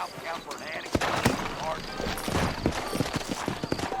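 Horse hooves clip-clop in Red Dead Redemption on the Xbox 360, a steady trotting rhythm of close, moderately loud hoof falls in the New Austin frontier, with talk over part of it.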